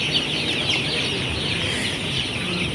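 A flock of broiler chickens on a poultry farm clucks and chirps in a dense, continuous chorus, with steady overlapping calls and no clear talking.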